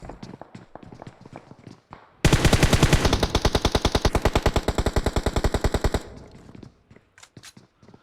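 Sustained automatic gunfire in PUBG Mobile, a loud rapid burst of evenly spaced shots lasting about four seconds, framed by quieter scattered footsteps and single taps before and after.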